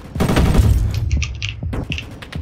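Rapid machine-gun fire from a weapon in the video game Rolling Thunder, a dense burst of shots followed by a few sharper bangs and small explosion effects, fairly loud and alone.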